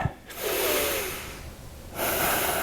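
Breathing during a neck stretch: a sharp sniff, then a long, airy exhale, a pause, and another breath drawn in, close and intimate, with no talking.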